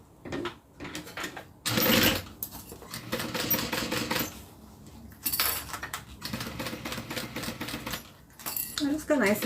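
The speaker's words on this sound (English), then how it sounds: "the zipper is just clipped in place right now, and then we're going to sew it" A sewing machine stitching a zipper onto a small leather zip-around wallet, with bursts of fast mechanical rattling separated by pauses and a voice talking between the runs.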